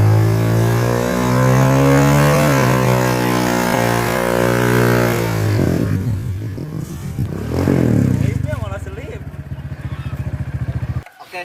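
Tuned Honda Karisma 125cc motorcycle ridden on the road, its engine droning steadily with rising and falling revs, then a rougher, broken stretch of engine and wind noise toward the end.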